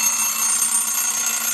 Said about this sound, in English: The alarm sounds like